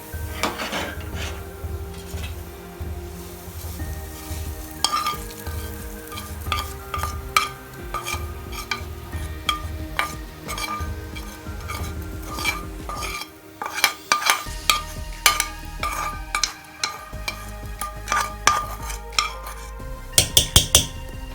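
Fried ginger and green chili mixture being stirred into Kanchipuram idli batter, with a spoon scraping and clinking against a metal vessel in uneven rhythmic strokes, louder knocks toward the end, no talking.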